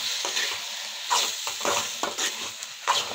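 A chilli and tomato vegetable dish is stirred and sautéed in a pan after salting, giving a soft ongoing sizzle broken by repeated scraping strokes of a spatula, close and without talk.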